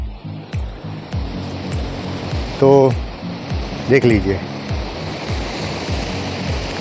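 Broad, steady rush of water flowing out from Anand Sagar lake and running downstream, a continuous outdoor wash with brief voices talking over it.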